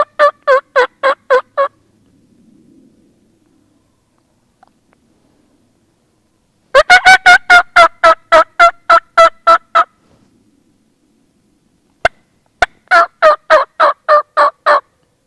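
Wild turkey toms gobble on rugged public land, loud and fairly close, in three separate bursts of rapid rattling gobbles with quiet gaps between them.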